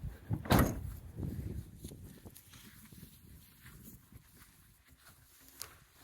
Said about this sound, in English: now we open up the door here